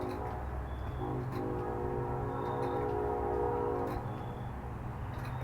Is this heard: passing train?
yes